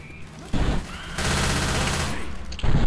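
Sustained gunfire in the video game Left 4 Dead 2, with short bursts and then a long continuous rattle of automatic fire, loud and close, with a voice briefly audible.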